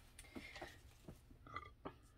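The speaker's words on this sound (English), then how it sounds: "I definitely burped because I went and ate" Quiet indoors, a few soft short burps surface over a low background hum, close by and faint.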